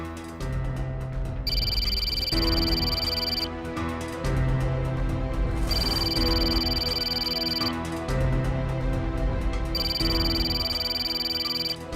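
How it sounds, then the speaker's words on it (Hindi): An unanswered phone call rings on with repeating tone cycles about every four seconds, loud and continuous, in a Hindi TV drama scene. "सम्राट जी प्लीज हमारा फोन उठा लीजिए एक बार"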